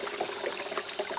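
Water running steadily through a gold prospecting sluice box after gold hog concentrate has gone through, a continuous close splashing wash with no talk.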